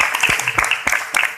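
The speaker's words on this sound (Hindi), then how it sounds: "उसके लिए जरूर ताली बजाओ" Audience applause at a motivational seminar hall, a short burst of dense hand clapping from a crowd, loud and close, with no talk over it.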